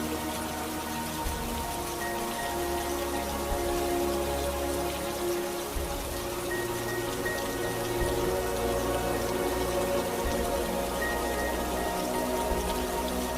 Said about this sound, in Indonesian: Coba kita dengarkan, di sini ada contoh hujan.